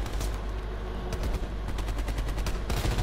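Bursts of rapid automatic gunfire in Call of Duty Cold War's campaign on realism mode, loud and close, with dense repeated shots running throughout and a short pause partway.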